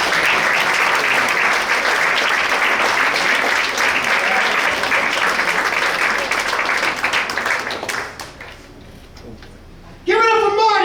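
Audience applause fills a comedy club as a comedian is welcomed to the stage: loud, dense clapping with cheers that holds steady, thins and fades toward the end, then a voice starts talking.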